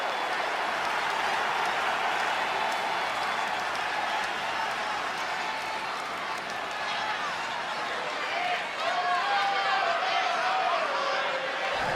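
A video game wrestling arena crowd in WWE 2K20 roars and applauds in a dense, continuous wash of noise, with a commentator's voice faintly woven through it.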